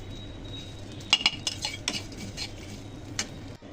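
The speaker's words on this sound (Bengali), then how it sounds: "এখন আমি সরিষা ভেজে নিচ্ছি" Mustard seeds frying in oil for an oil pickle, stirred with a metal spoon that clinks and scrapes against the pan. The scrapes come in short bursts over a faint, steady sizzle.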